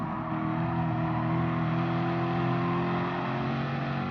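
Group 3 race cars roar in Gran Turismo Sport, among them a BMW M6, a Nissan GT-R and a Corvette C7; a steady, loud, droning engine note holds throughout with no speech.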